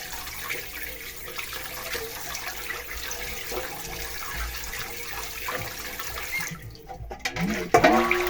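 Tap water runs steadily over a milkfish being washed in a sink, a continuous splashing hiss that grows louder and more disturbed near the end as the fish is handled.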